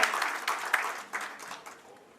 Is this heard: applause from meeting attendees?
yes